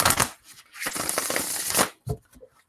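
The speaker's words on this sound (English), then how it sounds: "A few more shuffles." Oracle cards shuffled by hand during a pick-a-card reading, a dense riffling burst of papery flutter for nearly two seconds, then a brief softer shuffle and a few light taps.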